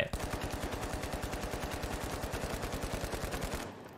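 Rapid automatic gunfire from a weapon in The Finals shooter game, a steady burst of evenly spaced loud shots lasting several seconds before cutting off abruptly.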